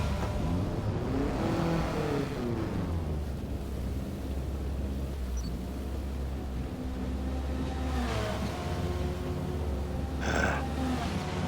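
Steady engine drone of a Honda #73 Civic race car in Forza Motorsport at Laguna Seca's short layout, rising and falling in pitch as it revs through gears, continuous and fairly loud.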